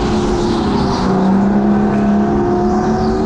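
A racing go-kart's engine screams at high revs through a lap, loud and close throughout with a steady droning tone that wavers slightly.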